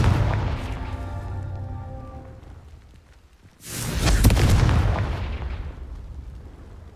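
A Confringo blast spell explodes in the Hogwarts Legacy video game, a single loud burst with a sharp crack that fades into a rumbling roar, after a stretch of lower ambient game sound with tonal hum.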